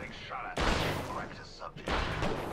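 Video game gunfire, with the player under fire: dense bursts of shots and blasts hit loud and close in two heavy waves, with voices talking over the action.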